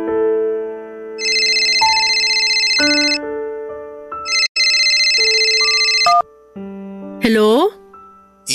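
A melodic phone ringtone plays in bright repeating tone bursts, loud and clear, with a few short pauses and a final rising warble.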